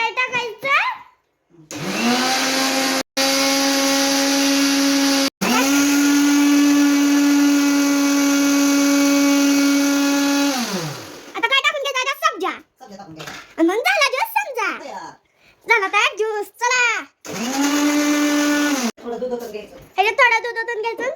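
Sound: mixer grinder blending cardamom into sherbet

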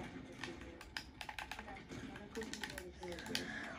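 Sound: laptop keyboard typing

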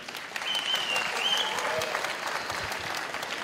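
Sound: audience applause after a fight

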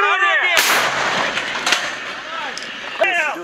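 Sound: anti-tank gun firing

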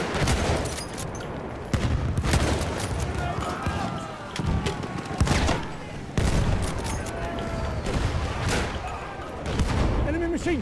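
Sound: enemy machine gun fire in the video game Battlefield 1

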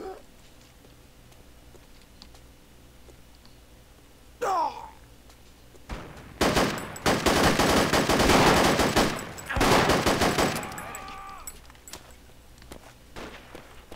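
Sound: gunfire in the video game Project Reality

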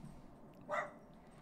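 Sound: dogs barking

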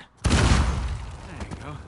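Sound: dynamite explosion in a video game

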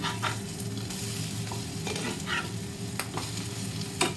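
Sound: fish roe frying in a pan

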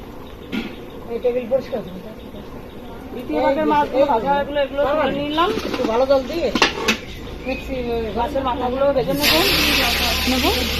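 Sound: fish heads frying, hot oil splattering

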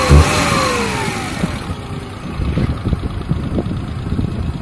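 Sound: stage 2 tuned Maruti 800 engine revving

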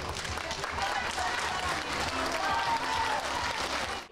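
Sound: audience applause at circus performance

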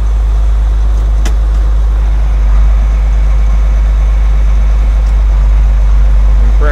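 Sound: John Deere 4440 tractor engine running at varied RPM

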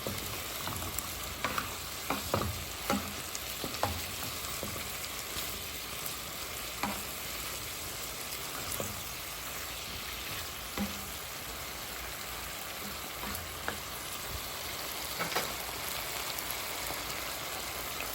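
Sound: coconut milk added to sweet potato tops, simmering sizzle

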